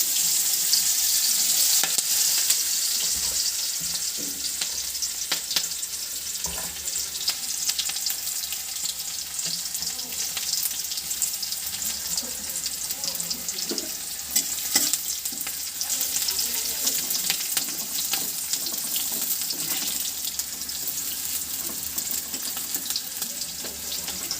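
Onion fries in a pan for a home-cooked fish curry, a continuous close sizzle with scraping stir strokes and occasional clinks, no talking.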